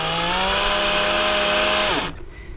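A handheld electric drill runs steadily close up while coiling jewelry wire, a constant whirring motor tone that winds down and stops near the end, leaving quiet room sound.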